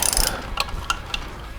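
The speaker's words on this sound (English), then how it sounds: "start taking out, or at least loosening, the head mounting bolts" A ratchet loosens the head mounting bolts on a Vulcan 750 motorcycle, giving a few crisp, close clicking pulls in quick succession.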